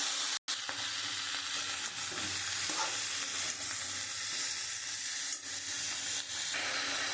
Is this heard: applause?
no